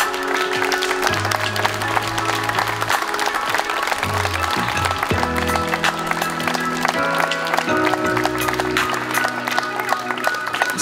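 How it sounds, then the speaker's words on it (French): Audience applause at a wedding ceremony as the bridal procession enters, steady clapping running the whole time beneath loud, tonal music. "Sous vos applaudissements,"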